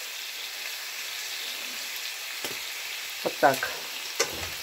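Food sizzles steadily in a hot pan, a constant crackling hiss, with a few utensil clinks and a brief spoken remark near the end.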